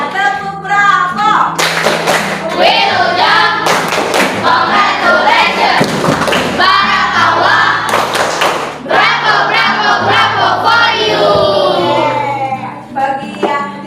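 Schoolchildren in a classroom perform a rhythmic chanted clapping cheer, patterned claps and thumps under loud group voices and shouting, near and lively for the whole stretch.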